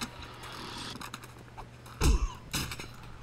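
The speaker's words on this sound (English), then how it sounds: "That was the sound of me getting punched." Player character getting punched in the 7 Days To Die video game: two short, thudding hits close together, quiet over a low game background hum.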